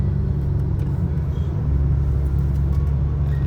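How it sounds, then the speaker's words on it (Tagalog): Cars on Al-Qudra Street, mostly high-end vehicles, drive past in a steady low rumble of road traffic, loud and continuous without talking. "Mga sasakyan dito halos mga high-end lahat."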